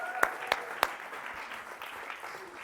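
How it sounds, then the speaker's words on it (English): A small audience claps softly at a distance, a light, scattered applause with a few sharp individual claps standing out early on. "Let's give a big round of applause for Claire, everybody."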